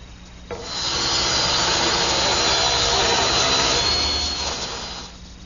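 A table saw rips a strip of pine to thickness, the blade spinning up then cutting with a loud, steady rasping whine for about four seconds before winding down, no one talking.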